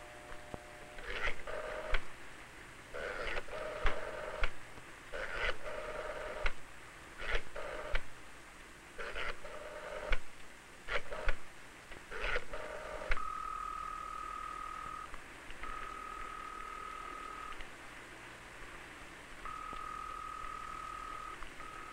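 A telephone being dialed: a quick series of separate beeping keypad tones in an uneven rhythm, then a repeating steady ringback tone in evenly spaced bursts, with no talking.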